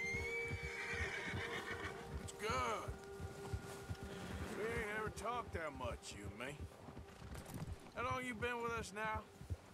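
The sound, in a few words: horse neighing in a video game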